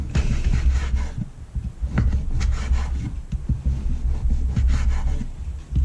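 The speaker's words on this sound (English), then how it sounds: "I'll get on with that and slice it up" A knife slicing beef against the grain into thin strips, producing a series of dull, irregular thuds and rubbing scrapes on a cutting board, close and moderately loud, with no talking.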